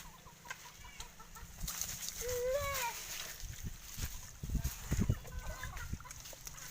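Chickens cluck and squawk close by, with a rising call in the middle and scattered bumps and thuds around them.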